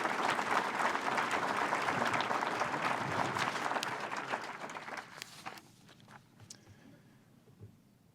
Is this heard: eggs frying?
no